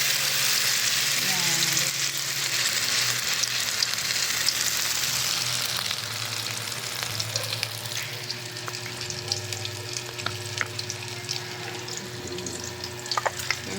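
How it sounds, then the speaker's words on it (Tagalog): Shrimp omelette (okoy) frying in a pan: a steady, close sizzle of hot oil lasting throughout, with occasional light clinks and scrapes of stirring toward the end. "Magluto tayo ng hipon. Yung tortang hipon guys."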